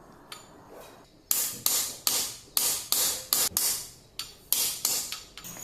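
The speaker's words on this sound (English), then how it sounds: "I'll carefully place the bearing in the center and gently tap it with the socket" A socket is struck to tap a bearing into the crankcase of an HPI Baja 5B 26cc engine, about a dozen sharp metallic knocks in an uneven rhythm, close and crisp, with no voices.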